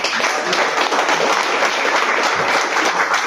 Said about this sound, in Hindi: डॉक्टर लिम के लिए तालियां बजाई जाए